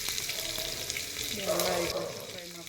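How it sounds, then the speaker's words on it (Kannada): Chopped onions frying in hot oil with cumin seeds, curry leaves and three dried red chillies for a buttermilk curry, a steady close sizzle with stirring scrapes as they cook toward golden brown. "ಈರುಳ್ಳಿನ ನೀಟಾಗಿ ಗೋಲ್ಡನ್ ಬ್ರೌನ್ ಬರೋವರೆಗೂ ಮಿಕ್ಸ್ ಮಾಡ್ಕೊಬೇಕು"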